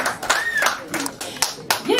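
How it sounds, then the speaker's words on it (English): Audience applause at an Africa Day celebration, with scattered claps through the clip and voices murmuring over it. "she deserves a round of applause just for the outfit, for sure"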